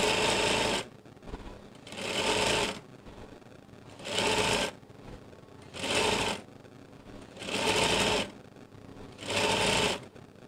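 Six bursts of a sewing machine stitching a skirt hem, each run lasting about a second with short quiet pauses between, close and fairly loud.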